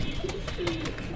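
A Teddy pigeon gives a soft, low cooing call in two short phrases, close and alone against a faint background hiss.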